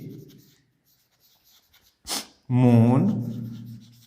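A teacher writes an English sentence on a board during a Hindi-medium grammar lesson, with faint scratches and one short, sharp stroke in a quiet pause, close by. A man's speech comes just before and right after the writing.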